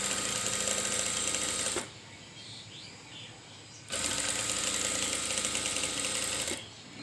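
A sewing machine stitching a zipper onto the back of a dress, running in two bursts of fast rhythmic mechanical clatter separated by a quiet pause, close up with no speech.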